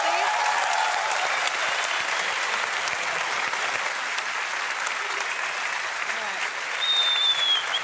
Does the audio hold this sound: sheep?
no